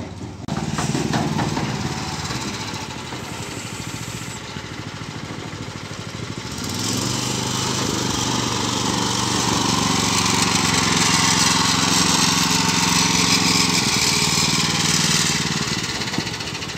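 A small engine running steadily, fairly close, with a rise in pitch and loudness partway through as the vehicle sets off to fetch another straw bale on a rural farmstead.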